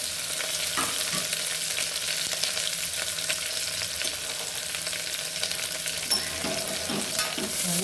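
Onions fry in oil in a pan, partly covered by a lid, for mutton gravy, making a loud, continuous crackling sizzle with occasional stirring clatter.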